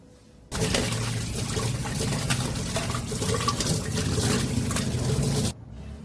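Running water splashes over a small oil lamp, or diya, as it is rinsed clean, a steady close gush lasting about five seconds that begins and stops abruptly.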